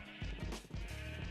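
Sheep in a modded Minecraft game bleat several times in quick succession, close and fairly loud, with short wavering calls and no talking.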